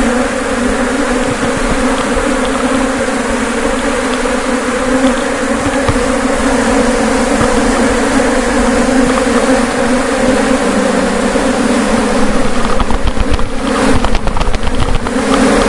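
Stingless bees buzz loudly and continuously at close range while being moved from a nest box into a new hive box. A dense, steady drone with a few brief rattling handling noises near the end, no talking.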